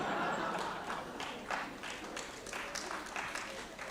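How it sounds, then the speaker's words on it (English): A convention audience applauds at a rule-of-law plenary session in New Delhi, a dense, steady wash of many hands clapping that fades slightly over four seconds. "I don't know why you are all clapping"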